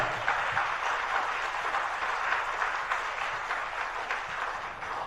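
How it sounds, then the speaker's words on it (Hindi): Sustained audience clapping during a Jain religious discourse class, a dense, even wash of many hands held steadily for about five seconds with no talking over it. "अच्छी से बजाओ तालियां।"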